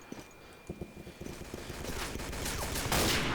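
Gunfire in the World War II shooter Day of Defeat: Source, scattered distant shots at first, building into a thicker, louder volley of overlapping rounds toward the end.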